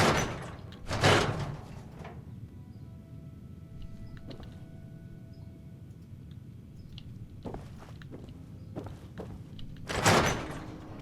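Door opening in Fallout 4 with loud thuds and mechanical rumble near the start, a quieter stretch with faint tones, then more bursts of door movement and a final heavy clunk.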